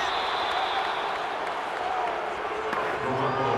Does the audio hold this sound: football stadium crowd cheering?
yes